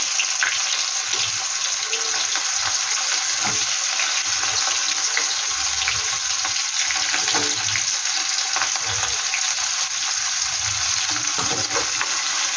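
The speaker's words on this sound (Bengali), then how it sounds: "পেঁয়াজটা কিন্তু একটু লাল লাল করে ভেজে নেবো" Chopped onion with black cumin seeds frying in hot oil in a pan, a constant bright sizzle with soft stirring scrapes, close and steady throughout.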